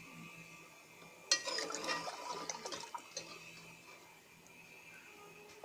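Water poured from a glass into a pot of vegetable rice splashes and gurgles for about two seconds at moderate volume, then fades to quiet kitchen background.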